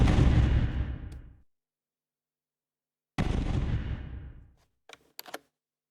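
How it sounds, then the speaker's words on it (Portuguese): Two booming explosions in a Godot-built space shooter game, each a sharp blast decaying into a long rumble, separated by silence, followed by a few short, crisp crackling pops. "O passo seguinte é adicionar explosões a tudo que precisa de explodir: o boss, todos os aliens e o player também."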